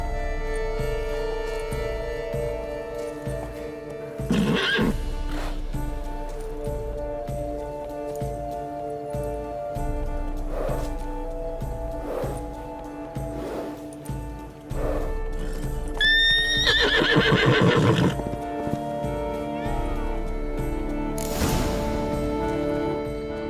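A unicorn in the game The Witcher 3 neighs and whinnies twice, with a hoof thump and soft clip-clop over a steady ambient hum.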